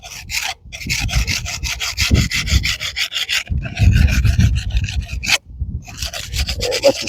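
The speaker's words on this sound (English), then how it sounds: "Let's just scrape off here." Dirt being scraped off a thin stone headstone tablet: loud, close rasping strokes in quick rhythmic bursts, broken by a few short pauses, with no voices.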